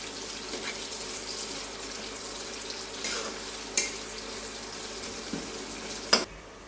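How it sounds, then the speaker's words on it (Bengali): Chopped onion with a bay leaf fries in hot oil, a soft steady sizzle with occasional sharp clinks of a spoon against the pan. "পেঁয়াজটা একটু লাল লাল করে ভেজে নেব।"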